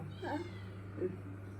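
A cat meows close by, one drawn-out call followed by a shorter one about a second later, over a steady low electrical hum.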